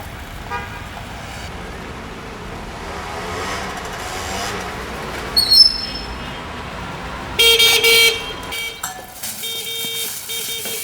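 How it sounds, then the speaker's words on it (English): Car horns honk outside in short toots, a brief burst midway and a louder cluster of blasts near the end, over steady outdoor background noise. "What's all that honking?"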